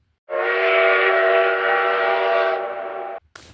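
An HO scale model train sounds a loud, sustained horn or whistle on a home layout, one long steady blast of about three seconds heard alone.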